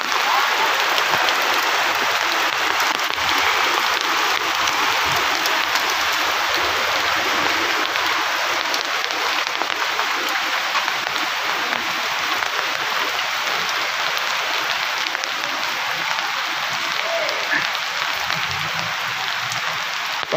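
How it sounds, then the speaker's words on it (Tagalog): Heavy, continuous rain pours down during a flood, making a dense, steady hiss that stays loud and unbroken for the whole stretch, with no voices over it. "Patuloy pa din ang pag-ulan."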